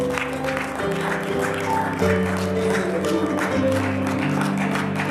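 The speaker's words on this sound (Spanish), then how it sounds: "Dele fuerte las palmas a Él." Church congregation claps hands during worship, rhythmic clapping layered over sustained musical tones from the praise band, moderately loud and continuous throughout.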